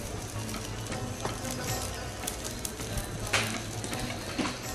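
Chicken frying in butter in a pan, a continuous close crackling sizzle with occasional pops and small utensil ticks, moderately loud, no speech.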